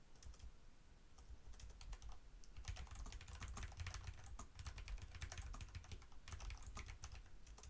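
Typing on a computer keyboard: a quiet, steady stream of rapid key clicks continues without pause, close and uniform in rhythm, with no talking.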